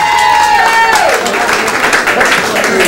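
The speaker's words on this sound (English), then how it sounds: "Give her a big round of applause." A live audience at an Irish music and comedy show gives a round of applause for the performer's wife. Loud, crowded clapping blends with a sustained musical tone, and a voice is heard over it.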